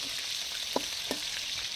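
Steady oil sizzle from a nonstick frying pan frying stuffed peppers, broad hiss throughout with a couple of soft clinks of a utensil against the pan.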